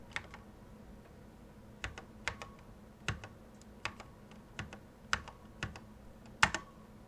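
Keys on an Apple IIe computer keyboard are pressed one at a time, with sharp, separate clicks at irregular intervals over a quiet background.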